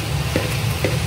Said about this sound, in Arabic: هلا نزلت الرز بدي اقلبهم شوي